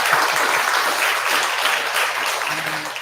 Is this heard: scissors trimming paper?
no